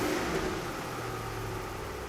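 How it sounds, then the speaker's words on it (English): A car engine runs at raised revs during a throttle and mass airflow scope test, giving a steady, moderately loud drone that eases off slightly, with no one talking. "Go ahead and rev it up a little bit."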